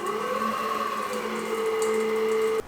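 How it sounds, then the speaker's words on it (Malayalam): An electric stand mixer with a whisk attachment whips egg whites for a Kerala plum cake, a steady high motor whine with a sustained tone shift midway, running alone before cutting off. "വൈറ്റ് പാർട്ട് ഞാൻ വിസ്ക് അറ്റാച്ച്മെൻറ്റ് വെച്ചിട്ട് നന്നായിട്ട് ബീറ്റ് ചെയ്യാൻ പോവുകയാണ്, നല്ല ഫ്ലഫി ആവുന്നവരെ"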